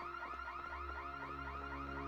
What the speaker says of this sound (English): That is the alarm.